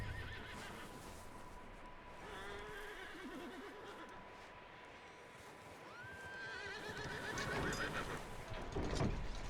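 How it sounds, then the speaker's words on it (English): Frightened horses in the snowy Western setting of Red Dead Redemption 2 neigh and whinny several times, their shrill wavering calls rising over a steady wind-like ambient bed, with stamping hoof sounds near the end. "what is making these horses being scared or worried?"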